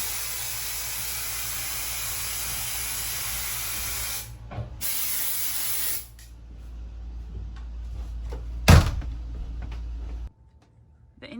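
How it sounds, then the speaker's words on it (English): Insect repellent is sprayed to fumigate the inside of a boat moored in Antigua, a steady close hiss lasting about four seconds that stops abruptly, followed by quieter handling sounds and a brief bump. "this to spray everywhere to kind of fumigate the place out"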